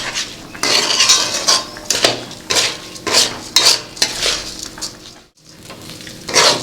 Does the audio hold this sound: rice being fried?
yes